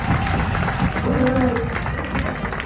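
Outdoor festival crowd in Jamaica claps and cheers to welcome a performer on stage, a busy wash of applause and voices with people talking throughout.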